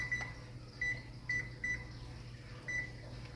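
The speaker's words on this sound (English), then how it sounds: "I'm gonna put timer on for 2 minutes." A quiet appliance hum runs steadily while short electronic beeps from a kitchen timer sound about five times at irregular intervals, as it is set for two minutes.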